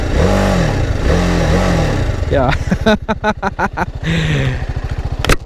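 A TVS Apache RR310 motorcycle starts and settles into a throaty, rumbling exhaust idle with a few quick revs, as someone talks over the engine.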